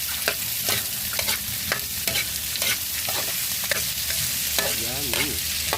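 Onion, garlic and carrots sautéing in a pan, with a steady sizzle and repeated scraping stirs as the vegetables are turned, close and continuous with no talking.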